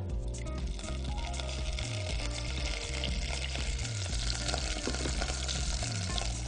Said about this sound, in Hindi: अब लहसुन थोड़ा सा गोल्डन होना शुरू हो गया है। इस पॉइंट पे मैं पैन में 3 टेबलस्पून सफ़ेद सिरके के डाल रही हूँ।